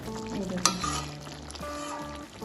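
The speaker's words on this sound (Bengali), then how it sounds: "এবার একবার নেড়ে দেব।" Mixed vegetable and paneer curry stirred in a pan, its gravy mostly reduced: soft scraping and gentle sizzling, with one sharp clack near the start, continuing steadily at close range.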